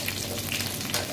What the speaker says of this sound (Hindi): तो यहाँ पे मुझे फ्राई करते हुए 5 मिनट हो गए